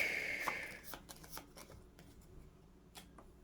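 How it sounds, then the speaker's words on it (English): A short, crisp riffle of cards being shuffled during a Skyrim adventure board game, followed by a few light taps and snaps as the deck settles, close and quiet. "Shuffle back into the spectral deck."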